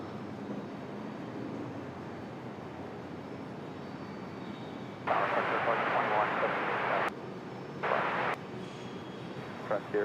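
An airliner rolls down the runway for takeoff at Raleigh-Durham International, heard as a steady distant engine roar that swells into bursts of louder rushing noise, with voices talking over it.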